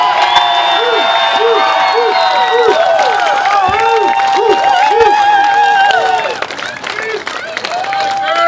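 A crowd applauds and cheers steadily and loudly at a college softball tournament, with whoops rising over the clapping. Announcer-style music or voices carry beneath before the applause dips briefly near the end.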